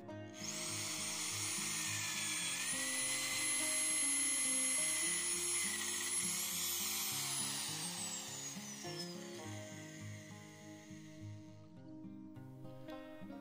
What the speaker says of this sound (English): Here I'm drilling holes for the anchor bolts.